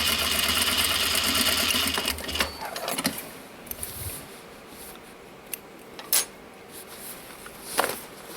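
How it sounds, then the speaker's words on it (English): A sewing machine back stitches across the center of a recycled denim pouch at a 1/4 inch seam, a dense whirring run for about two seconds that gives way to quieter handling noises and a few soft clicks. "And you can do a little back stitch over that center."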